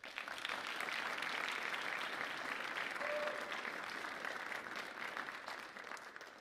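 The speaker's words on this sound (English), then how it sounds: "let's give them a round of applause" Students and families at a high school signing day ceremony applaud athletes, producing a warm, continuous wash of clapping that fades slightly toward the end.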